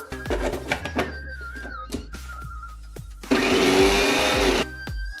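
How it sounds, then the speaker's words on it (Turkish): A blender whips cake batter flavored with vanilla, with a lid thunked on and voice-like tones early on; the motor then kicks in loud and steady, whirring for about a second and a half before stopping. "şimdi kapağı kapatıp çırpmaya başlıyorum"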